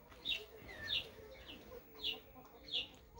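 A rooster and hen on a farm give several soft clucks and short calls in irregular bursts, faint and close by, with quiet background noise.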